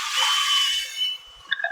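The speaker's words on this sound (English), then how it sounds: "Drill bit still works." A power drill bit whirs steadily against the frame of a 1961 Rambler as it grinds off old sealer, a continuous close buzz that eases off near the end before a few scraping bursts.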